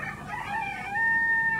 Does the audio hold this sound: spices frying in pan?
no